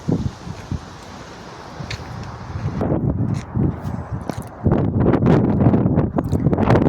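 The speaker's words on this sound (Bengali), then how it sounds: "আজকের বাতাস এত ঠান্ডা, মনে হইতেছে যে বরফ পড়তেছে, এত ঠান্ডা বাতাস।" Cold wind blowing through a seaside park at Jubail, Saudi Arabia, buffets the microphone in a steady, rough roar that gusts louder toward the end.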